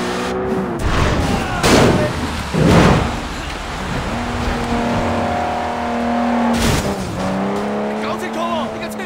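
Car being driven during a hijack in the video game Sleeping Dogs, engine revving with tire squeal and skids, punctuated by sharp impact bursts, loud and close.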